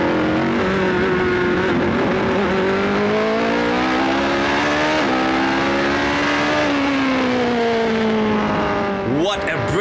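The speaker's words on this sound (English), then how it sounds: "stay on board now with Oak Racing and savor the sound of this fantastic racing" Onboard engine of an Oak Racing prototype race car at Fuji during the Asian Le Mans Series 3 Hours, a loud continuous high-revving roar rising and dropping through gear changes, close and dominant throughout.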